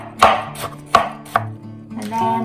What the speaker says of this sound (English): I'm gonna cut it into small pieces with cilantro to put it in the bowl